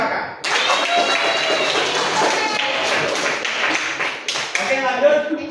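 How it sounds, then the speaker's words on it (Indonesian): A classroom breaks into applause for a game winner, a dense burst of clapping with some loud taps and voices mixed in, starting abruptly and carrying on for several seconds. "Tepuk tangan untuk Kakak"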